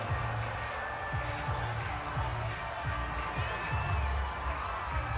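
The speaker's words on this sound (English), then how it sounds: "And the home crowd loves it." Home crowd in the Madden NFL 22 football game between the Chiefs and Colts, a loud continuous roar of cheering spectators with a steady rhythmic thumping underneath.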